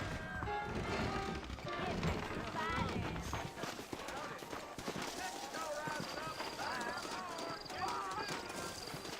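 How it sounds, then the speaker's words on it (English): Steady clip-clop of saddled horse hooves trotting along in Red Dead Redemption, layered with ambient game sound and occasional speech over the top. "I got the horses saddled up and ready out front."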